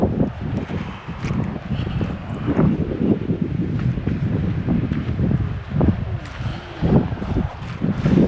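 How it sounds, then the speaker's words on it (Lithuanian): Evening wind gusts by the sea at the northernmost point of Denmark, a rough blustery rush buffeting the microphone with faint rustling, no voices. "Vakare, kai visada vėjas pakyla ir šalta."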